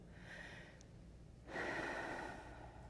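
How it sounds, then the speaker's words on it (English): One deep breath, a long breathy inhale that swells suddenly midway and holds steady for about a second, close and fairly soft, with no talking. "take a deep breath, do it with me"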